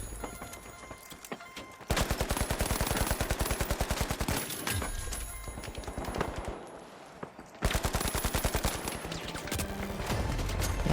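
Rapid automatic gunfire in the video game The Finals, dense bursts of shots lasting several seconds with a brief gap in between, loud and close in the mix.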